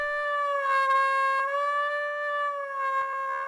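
A SWAM Brass virtual trumpet holds a bright, steady note with strong harmonics, its pitch sagging slightly downward and wavering over about three and a half seconds, solo with no voices.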